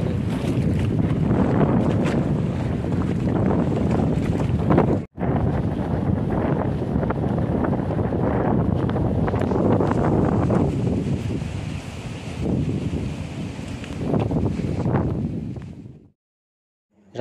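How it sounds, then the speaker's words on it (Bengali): Steady wind buffets the microphone aboard a boat on a Sundarbans river near Hemnagar, with broadband wash of water and waves running continuously, a brief dropout midway, then fading out at the end. "যাওয়া যাক আর একবার এখানে ঢেউটা দেখে যাই।"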